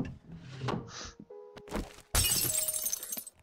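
A video game object shatters like breaking glass: a sudden loud crash with a bright, sustained tinkling spray that follows quieter game sounds.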